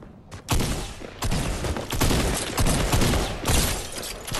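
Minigun in the tank battle mode of the video game Siphon 2.0 firing loud, dense bursts of rapid fire, several sustained volleys broken by brief gaps.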